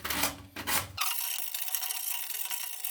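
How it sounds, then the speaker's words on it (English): A sanding sponge rubs against a PVC toilet flange, giving a loud, coarse scraping burst followed by a steady, close, hissing rasp. "I'm going to take my sanding sponge or sandpaper."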